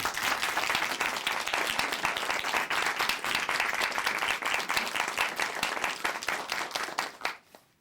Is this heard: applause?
yes